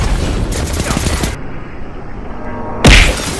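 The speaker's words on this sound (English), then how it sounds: "How do you like that explosion, my friend?" Dynamite blast in a combat video game: a burst of gunfire-like crackle, a brief quieter gap, then a sudden heavy boom with a deep rumbling thump near the end.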